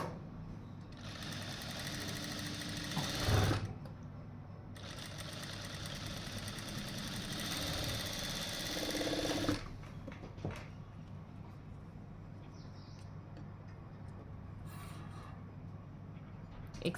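Sewing machine stitching piping on fabric in two fast, steady runs of rapid mechanical chatter, stopping briefly between them, then falling quiet with faint handling sounds.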